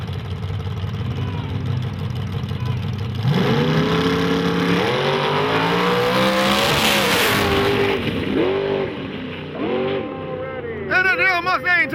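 Drag race cars, including a Mustang, roar down the strip as engines rev and rise in pitch through gear changes, loud and close, with a crowd voice shouting over the noise near the end.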